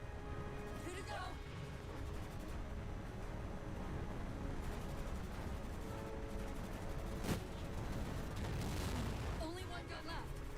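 Heavy cannon fire booms amid continuous dense battle noise in the Halo 4 video game, with a few sharp blasts standing out over a loud, unbroken roar of combat and effects.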